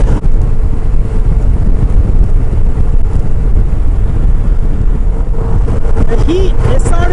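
Motorcycle riding on an open road toward Sturgis, heard from the rider's full-face helmet: steady engine drone mixed with loud, continuous wind rush that stays constant throughout.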